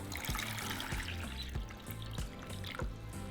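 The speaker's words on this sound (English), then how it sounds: "We're going to cover them with water." Water pours over cut potatoes in a small saucepan, a continuous close splashing and trickling with a few clinks of the pan, heard alone without talk.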